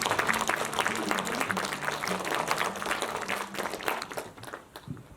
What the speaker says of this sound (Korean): 큰 박수로 발표자 단상으로 모시겠습니다